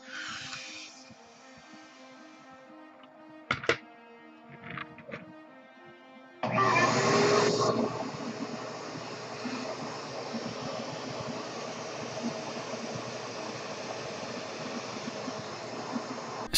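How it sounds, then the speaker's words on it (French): Vacuum cleaner placed behind a balloon's exhaust, switching on with a loud steady whine and roar that holds for several seconds after a few quieter clicks and handling noises. "Si vous placez l'aspirateur juste derrière l'échappement du ballon, rien ne bouge."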